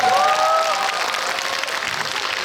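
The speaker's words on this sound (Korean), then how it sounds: "그럼 박수 한번 일단" A packed cinema audience at a special guest-visit screening of The King in CGV Yeongdeungpo's Starium hall bursts into loud, dense applause, with a few brief whistles at the start.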